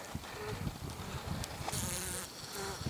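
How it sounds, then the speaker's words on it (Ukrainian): Honey bees swarm actively at an opened hive in winter, giving a faint, steady, many-voiced buzzing hum with no talking. "Бджоли активні."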